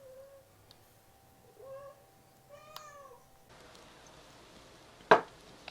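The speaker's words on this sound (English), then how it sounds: "And there's my cat being really annoying." A house cat meows a few times, faint and close-up, each call a short rising-falling cry, with a brief knock near the end.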